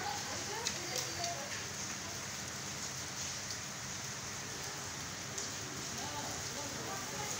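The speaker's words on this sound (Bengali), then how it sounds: "শিল পড়তেছে বড় বড় গ্লাসের মাঝে পরে, ওই গ্লাসে পড়তেছে, শব্দ করে, পট করে শব্দ করে।" Large hailstones knock against a glass pane during a Dhaka rainstorm, giving occasional crisp ticks over a constant, even roar of rain.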